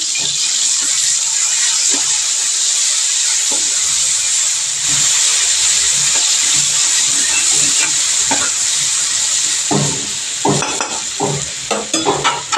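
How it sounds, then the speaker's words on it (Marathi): Crushed garlic and green chili paste, pounded with salt, sizzles loudly in hot oil, a steady bright frying hiss with scattered stirring scrapes and clicks that grow busier near the end. "हा लसूण मिरचीचा ठेचा ना चांगला परतवून घ्यायचा आहे."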